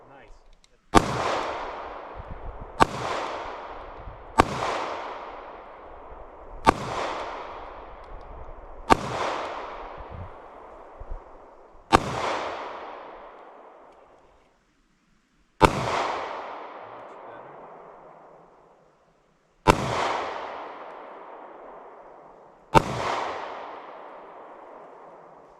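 Rifle shots at an outdoor shooting range, nine sharp loud cracks spaced a few seconds apart, each ringing out and decaying into the open air, with no talking between them.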